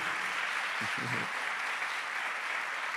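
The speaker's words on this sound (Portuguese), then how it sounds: "aplauda Jesus aí" Church congregation at an evangelical service clapping steadily as a dense, even wash of applause, fairly faint and continuous, with a brief murmur of voices low beneath it.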